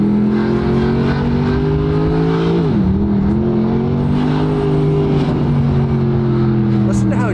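A naturally aspirated AMG V8 revs in manual mode, a deep, loud steady drone that dips briefly as a gear changes and then pulls again, with a voice talking over it.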